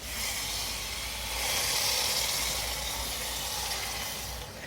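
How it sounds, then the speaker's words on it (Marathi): Hot water poured into a simmering cluster bean and pumpkin curry (gavar bhopla bhaji) makes a steady, close hiss and sizzle for about five seconds, with no one talking. "मी थोडस पाणी घालते गरम पाणीच घालते त्यात"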